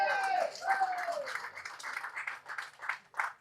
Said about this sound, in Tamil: அதனால் தயவு செஞ்சு நீங்களே ஒரு தடவை கைத்தட்டுங்க.